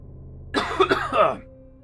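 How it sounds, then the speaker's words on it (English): One person nearby coughs in a short, rough burst, with a throat-clearing quality. "Alright, coughing morning."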